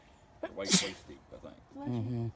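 A single sharp sneeze outdoors during a walk at a park bridge, surrounded by casual talk from people nearby.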